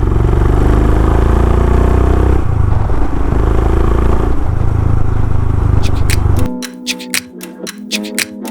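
A Royal Enfield Himalayan motorcycle pulls away with a loud, close engine roar that holds and shifts for about six seconds before cutting to sparser clattering sounds.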